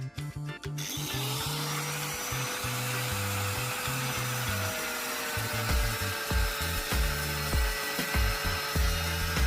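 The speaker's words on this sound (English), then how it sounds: "Cut off the burnt part of the pipe." Metal pipe being cut after its burnt section, a steady rasping, grinding tool sound running continuously with a sharp burst at the start and uneven pulses later, close and fairly loud with no voices.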